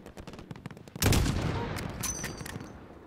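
Gunfire from Call of Duty Modern Warfare: a sudden loud burst of overlapping shots and blasts, then a sustained rumble of continued firing that gradually tapers but stays dense to the end.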